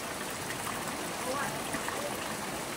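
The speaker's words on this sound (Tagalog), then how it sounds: "Tapos sinabayan pa tayo ng ulan, mga kaibigan. Lakas ang ulan." Heavy rain pouring outdoors at night, a dense, even hiss of falling water that runs unbroken throughout, with faint voices underneath.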